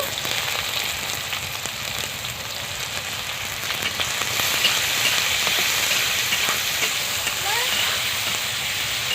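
Garlic paste and chopped onion go into a pan over caramelised sugar for a Bengali shol fish kalia, and a steady, close sizzle of frying continues throughout, with faint voices underneath.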